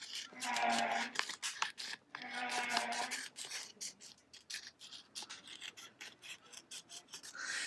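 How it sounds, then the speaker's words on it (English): Scissors trimming excess heat transfer vinyl on a DIY fall hoop wreath: close, rasping snips in two longer strokes, followed by a run of quick, uneven scratchy cuts. "All right, so cut this excess off up here."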